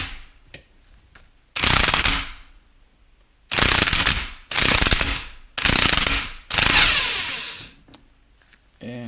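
A ratchet works on a part of a 2002 Honda Odyssey automatic transmission during teardown, with five loud, close bursts of rapid clicking separated by short quiet gaps and faint handling noises between them.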